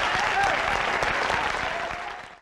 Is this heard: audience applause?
yes